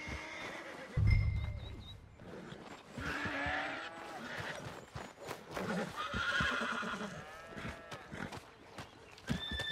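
A horse whinnies several times close by in Red Dead Redemption 2, with hooves clopping and shuffling between calls and a voice speaking briefly.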